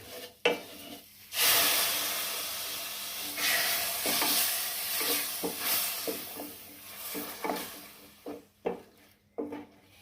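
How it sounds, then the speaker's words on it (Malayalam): Tomato paste hits frying spices in a pan for a Kerala soya chunks dish, setting off a loud, close sizzle, then scraping stirs and spoon knocks on the pan as the hiss rises and fades. "ഇനി ഒരു തക്കാളി പേസ്റ്റ് ആക്കി വെച്ചിട്ടുണ്ട് ഇതുകൂടെ നമുക്ക് ഒഴിച്ചു കൊടുക്കണം"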